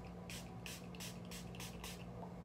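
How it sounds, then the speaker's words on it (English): A finishing spray is pumped onto a face in six short, even hissing spurts at a steady rhythm, close and fairly quiet over a faint electrical hum. "Take like 3 pumps and spray over your face."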